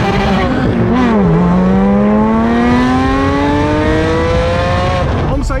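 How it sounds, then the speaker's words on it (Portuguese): A Ferrari 458 doing a burnout: the engine holds a loud, high-revving steady drone, its pitch climbing gradually, with a faint squeal of tires underneath, very close and dominating the scene. "Tem que ter burnout."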